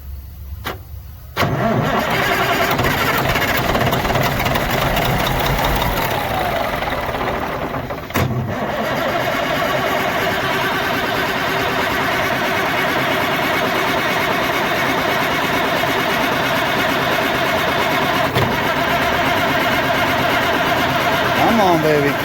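A rebuilt Caterpillar 3406C diesel engine cranks briefly, then catches and runs loudly at a steady, gravelly idle close by, with a short dip partway through and voices talking over the running engine.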